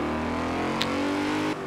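A 2018 Morgan sports car drives in the racing game Forza Horizon 4, its engine holding a steady, loud drone that drops off abruptly near the end.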